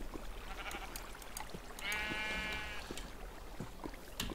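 A sheep in Minecraft gives one steady, wavering bleat over a noisy game background with scattered clicks.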